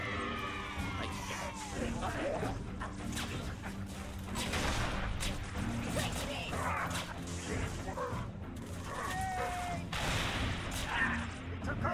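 Repeated gunfire from Halo weapons taking down jackals in a busy video game firefight, dense bursts of shots layered over game music and effects, with people talking throughout.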